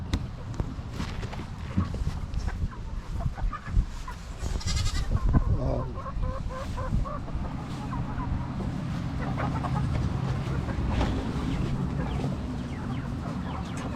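Farm chickens clucking and squawking alongside a bleating goat and other livestock, a busy overlapping clamor close by that rises and falls throughout, with a brief voice speaking at one point.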